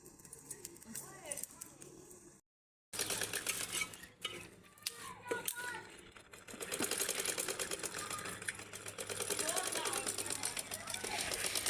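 A sewing machine runs in bursts of rapid mechanical stitching amid clinks and household clatter, with a brief silent gap early on, and people talk over it, fairly faint overall.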